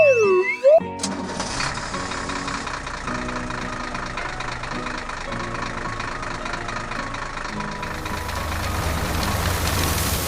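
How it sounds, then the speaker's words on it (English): A farm tractor sows seeds row by row across a field, its engine running as a steady, even hum for about ten seconds after a brief whistling sound at the start. "Tractor 3 opens the seed box and sows row by row across the field."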